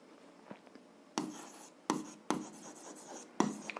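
A pen scratches across paper in short bursts of handwriting during an algebra exercise, several close strokes separated by brief pauses, with no talk.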